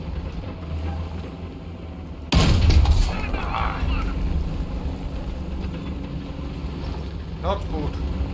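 Gunfire and explosions from War Thunder battle: a sudden loud close blast followed by rumbling engine noise and scattered distant shots, with people talking over it.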